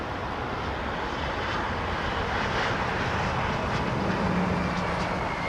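A fixed-wing airliner powered by Allison engines comes in to land at Heathrow, its engine roar steady and loud, a broad continuous rumble with a faint tonal whine rising near the end.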